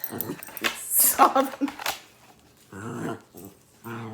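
A pet dog whimpers and growls in short, close bursts, mixed in with a person reading a story aloud who talks over and between the dog's noises.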